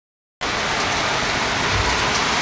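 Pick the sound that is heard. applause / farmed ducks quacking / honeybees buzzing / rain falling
rain falling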